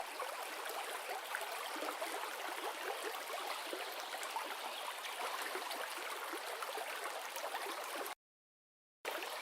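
A riverside stream winds between stones in open countryside, giving a steady, close, continuous rush and babble of water that cuts to silence for a moment near the end before resuming.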